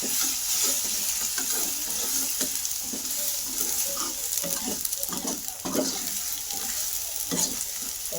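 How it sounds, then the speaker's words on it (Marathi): Spice masala of red chilli powder, salt, garam masala and turmeric sautéing in a pan for a garlic-fenugreek dish, a steady close sizzle with repeated stirring scrapes and clinks throughout. "मसाला चांगले परतून झाले"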